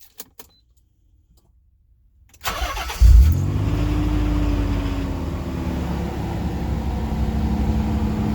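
Nissan 300ZX Z32 twin turbo with manual gearbox cranking and catching after a short quiet, then settling into a loud, steady idle close by with no talking.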